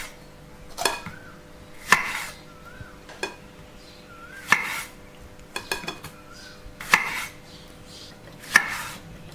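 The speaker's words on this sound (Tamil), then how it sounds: "இப்போ வந்து நம்ம தக்காளி வந்து கட் பண்ணிக்கலாம்." A knife chops tomatoes on a cutting board at close range, producing sharp, irregular strikes spaced about a second apart, with a few quicker double cuts and no voices.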